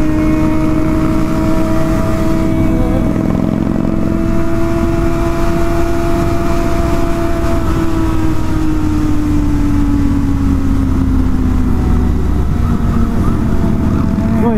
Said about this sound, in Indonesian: Kalau pakai Harley itu emang gitu ya, gas los, gas los, gas los, gas los, tuh gas los.